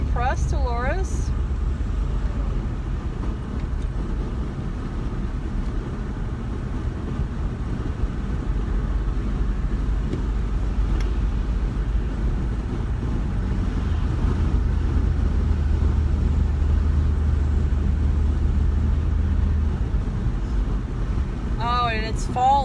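A 21-year-old car driving along a road in Ohio on a fall day, its steady engine and road rumble blended with strong wind buffeting, while a person talks over it almost throughout.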